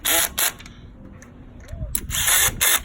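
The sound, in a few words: impact gun tightening valve cover bolts on 2002 Acura RSX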